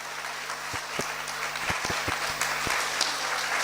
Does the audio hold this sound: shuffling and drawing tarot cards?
no